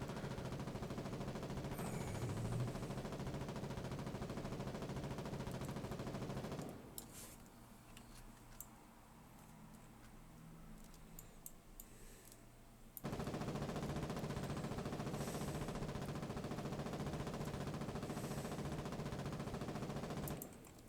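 Machine gun fire in the video game Foxhole plays as sustained rapid bursts of gunfire, loud and continuous. It pauses for several seconds mid-clip, then resumes just as dense, with no voices.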